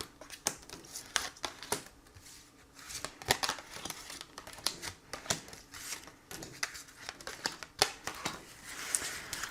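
Oracle cards are shuffled and drawn close by, giving soft irregular flicks, slaps and papery rustles in uneven clusters across the whole stretch, quiet and with no talk.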